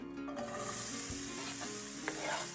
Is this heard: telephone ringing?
no